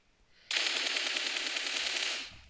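Sustained automatic gunfire from a weapon spraying in PUBG Mobile, a dense rapid burst of shots that starts abruptly and runs steadily for about two seconds before cutting off, loud and alone without talk.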